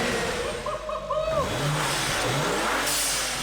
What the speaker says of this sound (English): You should show them the blow off. Oh yeah, that sounds like a spaceship.